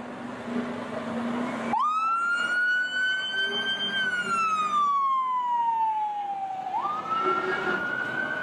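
A toy ladder fire truck sounds its electronic siren, which rises sharply, holds a long high wail that slowly falls, then jumps back up again, loud and close with no talking.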